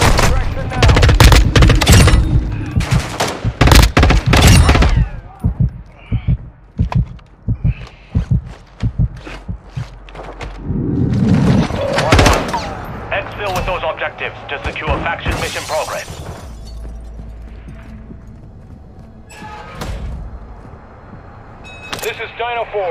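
Gunfire in a video game firefight, with dense bursts of rapid shots loud in the first five seconds, then scattered shots and other game effects under a speaking voice.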